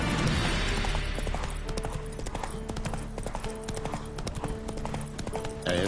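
Horse hooves galloping in the video game The Witcher 3, a fast, even clip-clop rhythm close and prominent throughout, with faint game ambience beneath.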